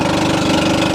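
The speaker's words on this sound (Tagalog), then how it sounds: "Ang lakas ng tunog ng motor eh." Raider 150 Fi motorcycle engine running on a long solo ride, a loud close steady throbbing rumble with rapid even pulses and no voices.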